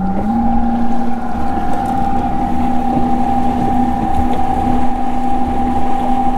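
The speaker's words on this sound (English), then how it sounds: "You can just hear a bit of a whine from the motor." Electric RS Pulse 63 RIB picking up speed to about 5 knots on open water, a steady motor whine rising then holding over constant hull and water rush, close and continuous with no talk.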